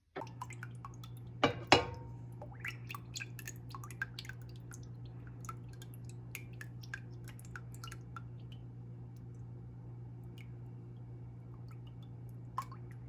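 Fruit juice dripping through a filter while making jelly in a kitchen: faint, sparse drips and small squishy splashes over a steady low hum, with a louder cluster of drips near the start.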